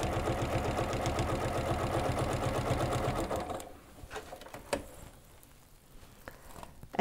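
A sewing machine fitted with a walking foot stitches a quilted potholder seam at a 3.5 stitch length, a loud, close, rapid rhythmic whir for about three and a half seconds before it stops, followed by scattered handling noises.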